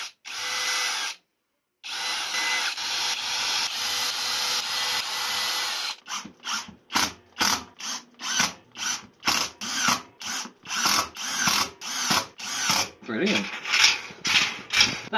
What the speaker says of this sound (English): I'll pre-drill, yeah, so it doesn't split open.